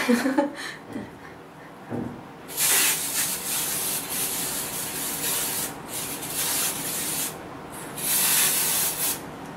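Several bursts of hairspray hiss from an aerosol can, each lasting a second or two, separated by brief pauses and soft rustling.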